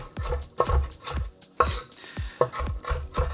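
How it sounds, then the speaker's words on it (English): A knife chops vegetables into small diced pieces on a cutting board with close, crisp, steady strokes, roughly one every half second, and no talking. "chop these down, and just chop them up until they're little small diced pieces"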